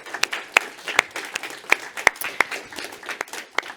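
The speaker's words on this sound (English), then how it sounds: "Warm applause." An audience claps after a conference talk on malware analysis. The sharp, uneven claps come from many hands at moderate distance and carry on steadily throughout, with no one speaking.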